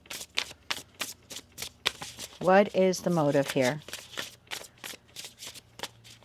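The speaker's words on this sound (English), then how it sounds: "One more shuffle." Tarot cards shuffle in quick, crisp riffles and snaps, a regular rhythm of short bursts close by, with a person speaking briefly in the middle.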